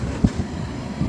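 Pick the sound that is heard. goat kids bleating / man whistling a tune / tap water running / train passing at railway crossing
train passing at railway crossing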